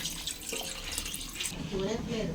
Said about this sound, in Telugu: ఇప్పుడు చింతపండు రసాన్ని పోసుకుందాము పులుపు చూసుకుని పోసుకోండి